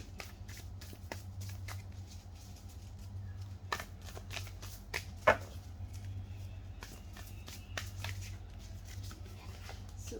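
A deck of tarot cards is shuffled and cards are drawn, giving soft papery riffles and snaps in a steady scattered rhythm, close and quiet, with a few sharper card slaps and no talk.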